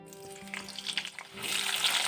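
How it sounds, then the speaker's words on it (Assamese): Potato pieces fry in mustard oil in a wok, a hissing sizzle with light clatter that swells into a louder, dense crackle partway through, close by and with no talk. "এয়া প্ৰথমে আলুখিনি ফ্ৰাই কৰি লৈছোঁ।"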